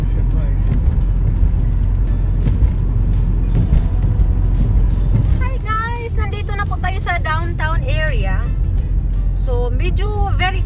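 Saturday road traffic with steady engine rumble and passing vehicles close by, heard under ongoing talk.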